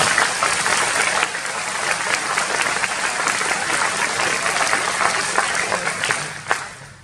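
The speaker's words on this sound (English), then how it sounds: "Let's give them all a round of applause." A large crowd applauds at a Year 12 graduation ceremony, a sustained wash of clapping filling the hall at even loudness throughout, with a few sharper claps standing out near the end.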